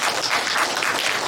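Audience applause at a Korean braille library's literature anthology publication event, a dense, steady wash of clapping filling the whole moment without voices.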